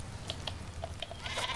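The sheep weapon in the Worms Battlegrounds video game bleats in several short, thin calls spread across a brief moment, fairly faint over a low background hum, with no talk.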